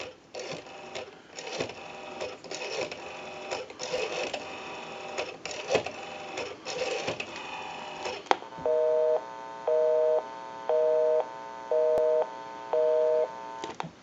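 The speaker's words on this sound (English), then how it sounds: "We'll call my number, and it'll be busy." An ITT 554 rotary wall telephone's line first carries rough, clattering noise, then a steady busy signal pulses in five even on-off bursts, clear and close.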